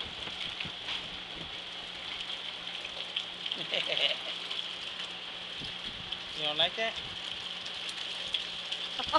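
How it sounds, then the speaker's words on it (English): Rain falling steadily outdoors, a constant close patter with scattered drips, while people talk briefly over it. "It's raining on you."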